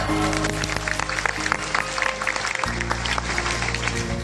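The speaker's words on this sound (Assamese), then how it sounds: "হাত চাপৰি দিয়ক।" A congregation applauds at an annual Eucharist church service. The clapping is dense and loud, continuing steadily over a humming, tonal background.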